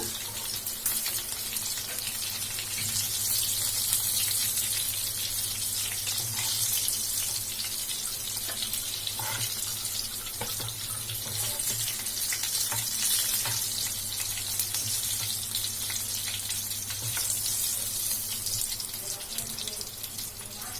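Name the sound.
chicken 65 pieces deep frying in oil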